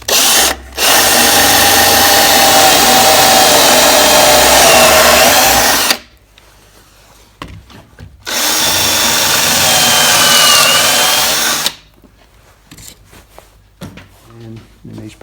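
A power drill drives pocket screws through a pocket jig into a wooden board during entertainment center construction, running in two long loud bursts of about five and three and a half seconds, separated by quieter pauses.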